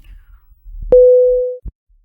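After a call is hung up, a phone line gives a single steady busy-tone beep lasting under a second, followed by a faint click. Low background noise surrounds it.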